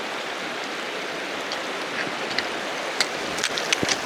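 Water rushing and splashing during a winter river crossing on a Scottish hill walk, a steady broadband wash with a few sharper splashes near the end, close and alone.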